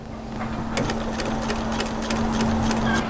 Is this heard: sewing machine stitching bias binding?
yes